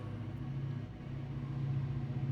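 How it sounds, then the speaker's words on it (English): Steady low rumble of background noise next to a train station with a continuous engine-like drone, constant and moderately loud, no voices. "I'm actually recording next to the train station"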